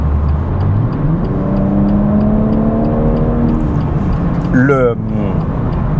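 A car being driven, heard from inside the cabin as a steady, loud engine and road drone with rising engine tones, while someone talks over it.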